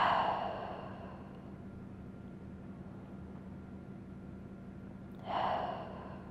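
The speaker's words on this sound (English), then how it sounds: "Take 3 more long, heavy breaths." Two long, heavy breaths during a bedtime yoga session, one at the very start and another near the end, soft and close, separated by a quiet stretch over a low steady hum.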